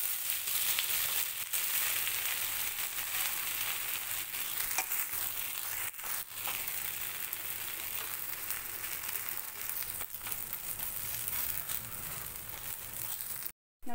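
A bread dosa sizzles steadily in a hot pan after being flipped, a close, continuous hiss of frying with faint scraping and a few soft knocks, no voices.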